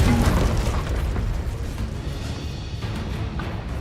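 A Confringo spell explosion in the Hogwarts Legacy video game: a loud, deep booming burst at the start that rumbles and slowly fades over a few seconds.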